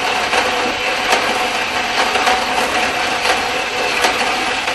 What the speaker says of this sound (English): What we're doing to this side is clean sawing it off.